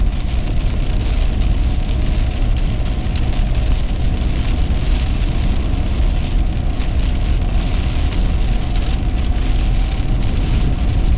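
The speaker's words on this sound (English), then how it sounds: "it's rainy and nasty out" Steady heavy rain pours on a stormy day on the Outer Banks, a dense, loud, unbroken hiss of drops drumming on a surface with a low rumble underneath and no voices.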